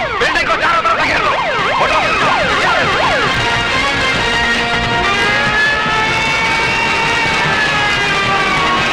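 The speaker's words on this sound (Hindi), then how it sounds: "फौरन एम्बुलेंस बुलाओ।" Several emergency sirens wail and overlap, rising and falling in fast sweeps before settling into steadier tones, loud against street noise.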